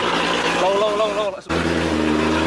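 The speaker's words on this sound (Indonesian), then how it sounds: "Seakan-akan mesinnya berusaha untuk nggak mati." Off-road vehicle engine labouring while stuck in a river, a steady low rumble with a brief dip and cut near the middle before resuming, heard under close talking.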